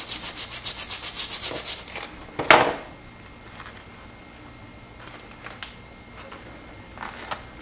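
A bristle brush scrubs an old knife blade in a rapid run of about a dozen rhythmic rubbing strokes, followed by a sharp scrape and then scattered light taps and handling sounds in a quiet room.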